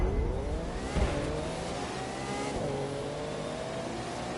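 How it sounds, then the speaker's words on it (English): LaFerrari in The Crew 2 revving hard, engine pitch climbing, dipping at a gear change and climbing again, loud and close throughout with no talk. "That was a LaFerrari."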